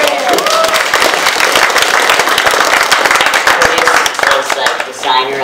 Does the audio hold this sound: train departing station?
no